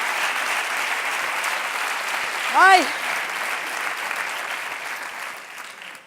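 An audience applauds steadily throughout, a dense wash of clapping, with a single sharp shout rising above it midway before the applause gradually thins toward the end.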